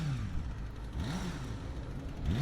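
A stock-exhaust Honda Hornet 250 inline-four revving, heard as a steady mid-pitched engine drone with a couple of quick rising-and-falling rev sweeps, close and continuous.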